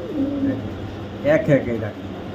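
An Afshan pigeon gives a few soft, rolling coos at close range, mostly mid-clip, while a person talks nearby.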